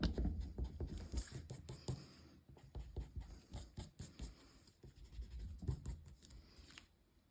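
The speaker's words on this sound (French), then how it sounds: "effacer mes marques" An eraser rubs pencil marks off paper while a window box is being crafted, making quick, close, scratchy back-and-forth strokes in an uneven rhythm with no one talking.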